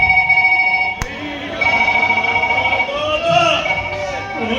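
A phone ringtone plays steadily in repeating tones, fairly close, while voices talk over it.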